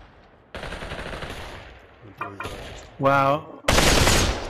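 Gunfire in the VR video game Population One: close bursts of rapid automatic fire and a final loud sustained burst, with a brief spoken exclamation between shots.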